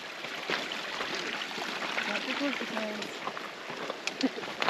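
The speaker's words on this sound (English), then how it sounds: "Love that sound, trickling water." A mountain stream trickles steadily at a Colorado trailhead, a soft broadband wash running continuously in the background while a voice speaks faintly over it.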